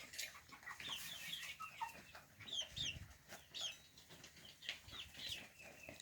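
A pet rooster sits on a person's lap on a farm homestead, making soft, close clucks and chirps in short irregular bursts over a quiet background, with no talking.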